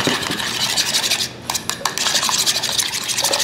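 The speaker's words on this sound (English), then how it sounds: "Give these a quick whisk" Two whole eggs are whisked in a bowl, a continuous, loud, close scratchy swishing with a brief dip partway through. Nobody speaks.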